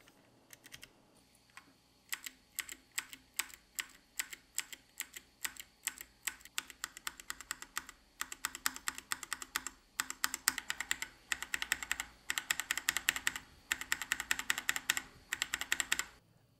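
Close, crisp typing on a Kemove Snowfox mechanical keyboard with brown switches: bursts of rapid clacky keystrokes with short pauses, getting denser and louder toward the end.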